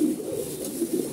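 Fancy pigeons at a pigeon farm coo in low, rolling pulses, a steady close murmur with no talk over it.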